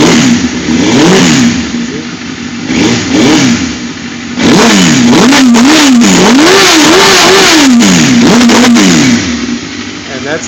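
A 2004 Suzuki GSX-R 1000 sport motorcycle engine is revved up close and loud, with a couple of short blips followed by a long run of repeated rising and falling throttle sweeps over a steady idle.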